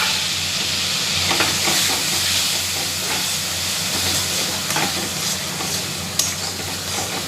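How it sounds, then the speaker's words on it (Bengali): Prawns fry in a pan with mustard paste and nut paste while being stirred, a loud, close, continuous sizzle and hiss broken by occasional scraping clicks of the spoon. "একটু কষাই চিংড়ি মাছটা, বেশি ভাজলে কিন্তু চিংড়ি মাছ শক্ত হয়ে যায়।"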